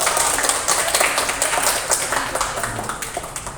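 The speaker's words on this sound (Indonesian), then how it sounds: "Tepuk tangan dong." A group clapping hands during a classroom guidance session, a steady patter of overlapping claps with some louder individual hits, sustained evenly for a few seconds in a roomy space.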